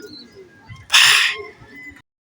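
Racing pigeon arriving at the loft after a race from Pio Duran, Albay to Novaliches, a sudden loud fluttering burst of wings lasting about half a second amid quiet, faint background sounds.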